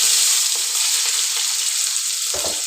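Finely chopped onions, two medium ones, sizzle steadily in hot spiced oil for pulao, a continuous close frying hiss with a brief louder crackle near the end.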